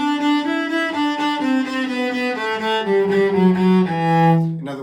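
A bowed string instrument plays a run of even quavers, down and up bows equal in length, stepping through a melodic line with steady rhythm, close and clear with no talking.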